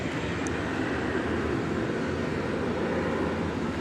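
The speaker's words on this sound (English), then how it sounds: "This is a Cessna 208B Super Cargo Master." A 1989 Cessna 208B Super Cargo Master turboprop arriving at DFW Airport at night, a dense, steady engine roar at a constant level, fairly loud and close, with no voices.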